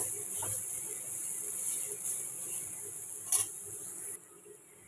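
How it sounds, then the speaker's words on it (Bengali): Grated carrot being stirred with salt in a pan, a soft steady scraping and faint sizzle with one brief louder clink, close and alone. "স্বাদ মতো লবণ দিয়ে ভালো করে মিশিয়ে নেব"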